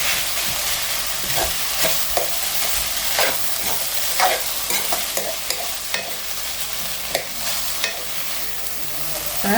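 Broad beans and grated coconut are stir-fried in a pan: a constant close sizzle broken by frequent rhythmic scrapes and knocks of the spatula turning the mixture.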